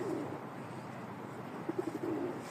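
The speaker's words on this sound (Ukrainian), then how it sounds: "Яка пара голубів воркує." Pigeons coo in low, throaty bursts at the start and again near the end, soft amid steady outdoor ambience in Kyiv.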